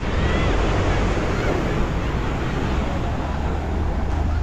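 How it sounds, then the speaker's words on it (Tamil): Ocean waves wash onto Varkala Beach at sunset, a dense, continuous broadband roar of surf mixed with wind buffeting the microphone, loud and unbroken. "கடல் பாருங்க எப்படி இருக்கு"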